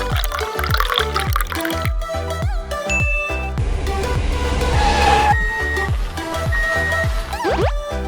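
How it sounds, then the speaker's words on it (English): Water is poured into a small cardboard toy swimming pool, giving bubbly, gurgling splashes and drips that swell into a fuller pouring wash before trailing off, close and clear with no talk. "Pour water into the swimming pool."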